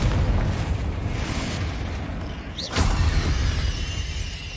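A Confringo spell explosion in Hogwarts Legacy, a loud booming burst that swells out of a constant rumbling game backdrop and then fades slowly.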